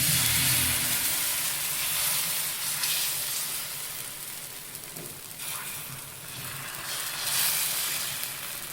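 Fermented rice kanji dosa batter sizzling steadily on a hot stone griddle, a continuous loud broadband hiss with small swells and crackles, close by and without speech.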